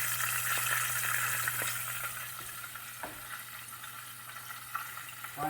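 Pickles deep frying in hot oil, a steady close sizzle and bubbling with faint stirring clicks, louder at first and easing slightly.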